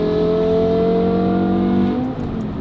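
A BMW E60 M5's V10 with a Valvetronic Designs valved exhaust and stock headers revs up close and loud, a smooth rising howl that holds high, then falls away as the throttle closes near the end.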